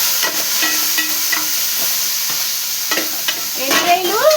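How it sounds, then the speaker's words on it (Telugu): Prawns frying in a pan, a loud continuous hiss and sizzle with light scraping taps from stirring and a swell of crackling spatter near the end, close up and without speech. "రొయ్యలు బాగా వేగిపోతున్నాయి."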